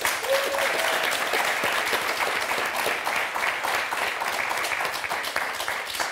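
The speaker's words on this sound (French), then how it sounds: "Et un tonnerre d'applaudissements pour Catherine et Laetitia." Audience applause for two contestants on the French word game show Motus: sustained, full clapping from a studio crowd runs steadily from start to finish, with scattered sharper claps.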